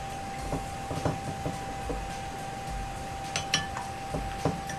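Small glassy clinks and taps as an EC meter probe is set into a glass of gypsum solution, several light, close knocks against a faint steady hum.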